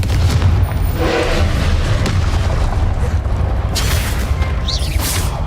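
A continuous roar of fiery blasts from the Confringo spell in the video game Hogwarts Legacy, loud and close, booming without pause, with no voices over it.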